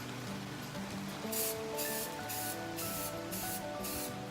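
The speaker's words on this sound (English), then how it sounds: "Probably not the best idea to paint in the rain." Short hissing bursts of a spray paint can coat a 3D-printed Darth Vader armor piece outdoors in light rain, several quick blasts in a row over a faint background hum.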